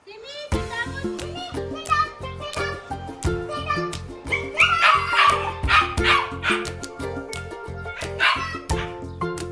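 A dog barks and yips repeatedly in a quick rhythm, close and fairly loud, with occasional voices in the background.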